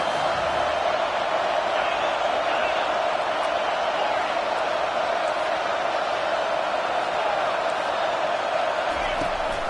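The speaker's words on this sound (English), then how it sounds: "Decibels rising as the crowd gets behind this defense on 3rd down." Stadium crowd in the NCAA 25 college football video game, a steady, loud roar that holds at a high level throughout, with no clear talk over it.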